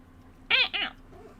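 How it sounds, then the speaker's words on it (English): A pet cat, a male named Stink, gives two close, clear meows in quick succession indoors in a quiet room, followed by a fainter, softer trailing mew. "one of my cats is in here"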